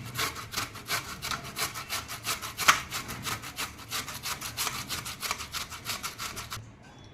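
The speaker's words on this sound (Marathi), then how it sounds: "आता आपली काकडी किसून झालेली आहे" Cucumber scraped against a hand grater for a thalipeeth batter, a close, steady rhythm of quick rasping strokes that stops just before the end, with no voices.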